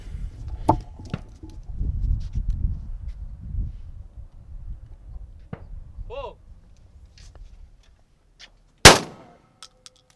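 A shotgun fires once at an outdoor shooting range, a single loud sharp blast late in the moment after a stretch of rustling, handling noise and background activity.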